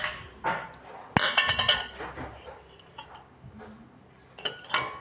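A container is handled in a kitchen, giving bright clinks and knocks in irregular bursts at close range, including one sharp strike and several lighter taps, with quiet gaps between them.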